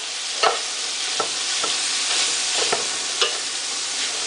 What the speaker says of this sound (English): I'm just going to mix that in and get that as small as possible